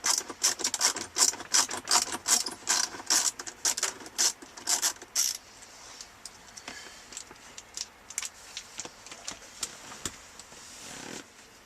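Short flathead screw being backed out of interior trim on an Acura Legend, a quick run of sharp, close ratcheting clicks at first, then sparser scattered ticks and taps, with no talk.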